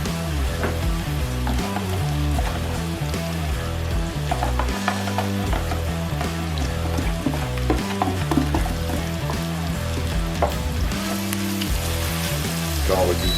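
Apple pieces fry in melted butter in a pan for an apple tart, a busy continuous sizzle and crackle with stirring, close and steady throughout.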